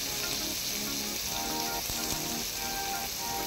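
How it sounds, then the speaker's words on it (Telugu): Garlic and ginger fry in two spoons of oil in a kadai, giving a steady, close, dense crackling sizzle that carries on evenly without pause, with faint stirring clinks mixed in. "ఇప్పుడు కడాయి తీసుకుని 2 స్పూన్స్ ఆయిల్ వేసుకుని గార్లిక్, జింజర్ కూడా వేసుకుని ఫ్రై చేసుకుందాం"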